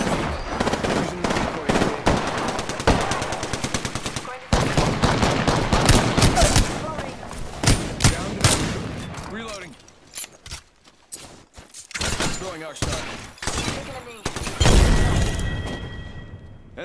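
Loud shotgun and weapon fire in Apex Legends, heavy booming blasts and rapid bursts in quick succession with brief lulls, close up, mixed with game effects and voice callouts.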